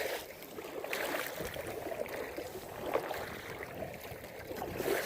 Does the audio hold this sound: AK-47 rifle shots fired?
no